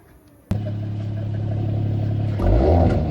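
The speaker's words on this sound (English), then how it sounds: "Car's actually got the sport exhaust, so it doesn't have a resonator." A Mercedes AMG GT 53 with a sport exhaust and no resonator fires up abruptly, then holds a loud, steady idle before revving up deeper and harder near the end, heard close and without talk.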